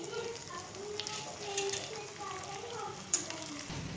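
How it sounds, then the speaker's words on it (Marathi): Edible gum fries in hot ghee in a kadai, giving a faint, soft bubbling sizzle close by, with one brief sharp clink partway through. "हा बघा डिंक ना तुपात छान फुलतो, असं छान तळून घ्यायचं आहे।"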